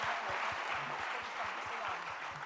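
A gathered audience at a religious question-and-answer session in Agra breaks into sustained applause, a fairly soft, even wash of clapping with a faint low rhythmic thumping underneath.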